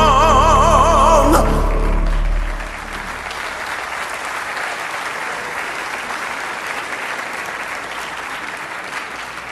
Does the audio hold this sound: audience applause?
yes